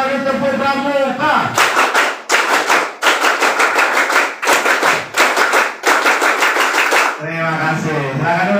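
A group of students performs the scout rhythmic clap, tepuk pramuka, twice in unison: loud, crisp patterned clapping in repeated bursts and phrases, framed by a voice speaking before and after.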